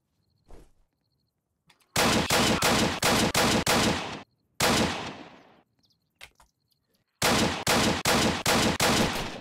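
Gunfire in the Roblox survival game Apocalypse Rising rings out in loud, close bursts of rapid shots, each volley lasting about half a second to a second, separated by silent gaps and a few isolated single shots.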